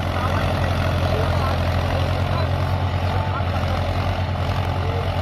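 A Mahindra 275 XP Plus tractor engine works steadily while pulling a trailer, a loud, close, continuous low diesel drone without a break.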